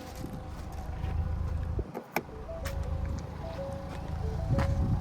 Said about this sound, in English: And I like the exhaust too.